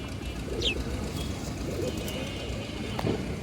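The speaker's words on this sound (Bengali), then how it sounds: "এগুলো দর্শক, আর্মি কবুতর" Army pigeons at a pigeon farm coo softly nearby against a low, steady background murmur, with a short sharp chirp early on.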